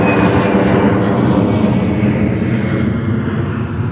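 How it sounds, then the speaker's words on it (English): A Saudi Boeing 787-10 Dreamliner lands at Gatwick in a crosswind, its engines a loud, steady, broad roar that holds close and constant throughout. "Saudi 787-10 Dreamliner coming in"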